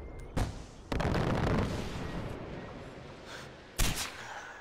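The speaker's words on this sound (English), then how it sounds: "That's excellent mortaring, guys." Mortar fire in the video game Far Cry 4, with a few sharp booming impacts standing out over a rumbling, noisy battle bed, moderately loud and without speech.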